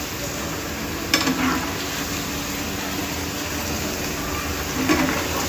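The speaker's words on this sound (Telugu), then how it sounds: "మీడియం ఫ్లేమ్ మీద వేయించుకోవడం వల్ల మనకి ఈక్వల్గా వేగుతాయి" Cauliflower pieces fry in a pan over a medium flame, giving a steady, dense sizzle of hot oil that runs without a break. Two brief clinks or stirs stand out, and no one speaks.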